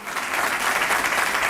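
Steady applause from a crowd as the First Lady claps while the president turns away from questions, a dense continuous patter of many hands, loud and sustained throughout with no voices above it.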